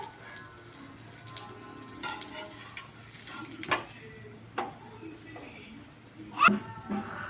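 Maida dough fries in refined oil with a soft, continuous sizzle and bubbling, punctuated by a few sharp crackles and clinks near the end. A voice talks quietly over it.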